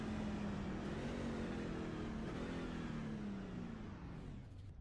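Demon 90 racing truck engine at the Milwaukee Mile oval, a loud sustained roar with a slowly shifting pitch as it accelerates, fading slightly at the end.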